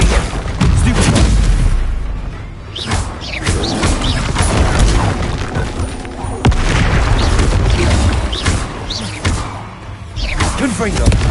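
Confringo blasting spells burst repeatedly in Hogwarts Legacy amid a loud, dense battle, with booming impacts and crashes recurring every couple of seconds under raised voices.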